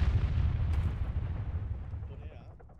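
A large explosion aboard an aircraft carrier in the Arma 3 military game: a heavy, close, rumbling blast that decays slowly into a low roar, with voices faintly present.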